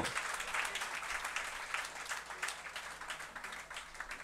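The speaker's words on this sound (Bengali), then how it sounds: "সবার কাছ থেকে একটা স্পেশাল করতালি আশা করছি প্রত্যেকে প্রত্যেকের জন্য করতালি দিব" Audience applause fills a hall during a company's 40th anniversary celebration for Modern Herbal Group, a steady dense wash of many hands clapping at once, fairly loud and sustained throughout without a break.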